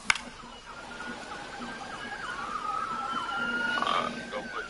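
Emergency sirens wail and yelp continuously, rising and falling in pitch, growing louder over a low rumble of road traffic.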